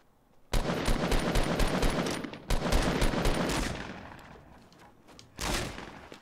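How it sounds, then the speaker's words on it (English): Gunshots fired at enemy players in Fortnite: loud, close, rapid bursts of automatic fire with short pauses between volleys, tailing into fainter shots. "I probably shouldn't have shot at them, should I?"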